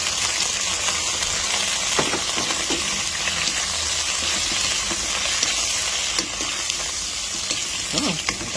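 Shrimp hit a pot of Filipino vegetable soup with onion and garlic, producing a continuous close sizzle and bubbling hiss with scattered clinks and stirring sounds, no talking.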